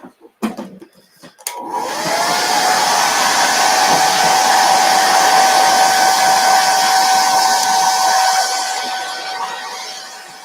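A hair dryer blows on a wood sign, starting after a few handling knocks, then a loud steady whir with a whining tone that runs for several seconds before easing off.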